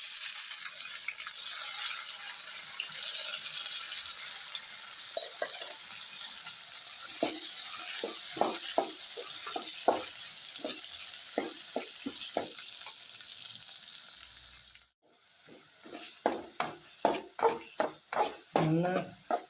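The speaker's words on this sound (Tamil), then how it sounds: "இப்போ நாவப்பழத்தை கொட்டிடலாம்." Java plums (naval fruit) stirred in a hot pan for a Tamil-style rice dish: steady frying sizzle with repeated scraping stirs, growing louder and more rhythmic after a brief pause near the end.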